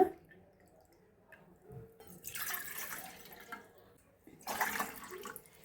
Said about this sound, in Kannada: ಈಗ ಎರಡು ಕಪ್ ನೀರು ತಗೊಳ್ಳೋಣ